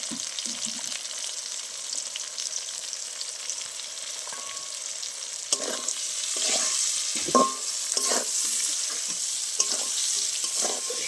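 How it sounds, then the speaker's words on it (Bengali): Pointed gourd (potol) sizzling in hot oil in a pan, with steady frying hiss throughout and repeated scraping stirs of a spatula growing busier in the second half. "পটলটা আমার ভাজা হয়ে গেছে, এবার আমি একটু নুন আর হলুদ দিয়ে দেবো।"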